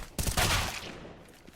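Gunshots in CS:GO on the Mirage map during a competitive match, a quick burst of shots that rings out briefly and then fades into reverberant tail, with nobody speaking.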